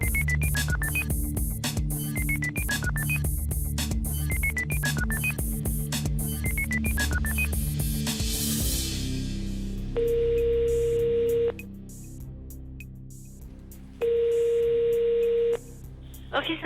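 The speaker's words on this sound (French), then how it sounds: "la régie compose le numéro du notaire" A telephone call to a notary's office: a rapid run of dialing beeps over background music, then two long, steady ringback tones separated by a pause, heard clearly and fairly loud.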